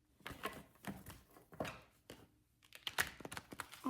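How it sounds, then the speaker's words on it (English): Tarot cards being shuffled by hand, a quiet run of soft riffling taps and flutters in irregular bursts, close and faint. "Let me just shuffle"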